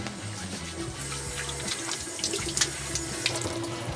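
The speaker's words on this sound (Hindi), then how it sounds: "लेकिन सबसे पहले हम हाथ धो लेते हैं" A running kitchen tap pours steadily while hands are washed beneath it, close and continuous with small splashes and shifting flow as the hands move under the stream.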